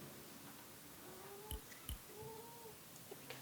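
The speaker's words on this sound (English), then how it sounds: "I don't know if you can hear my cat whining right now." A pet cat named Beanie Baby whines faintly indoors, making a few short, drawn-out cries with brief taps in between, against a quiet background hiss.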